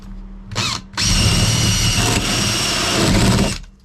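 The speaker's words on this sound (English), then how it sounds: "I'm just gonna drill through the wood." A power drill bores through the wood of a 4x8 camper build, including a staple; a short burst is followed by a long, loud, steady whine that runs for nearly three seconds before cutting off.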